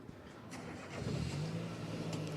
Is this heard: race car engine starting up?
yes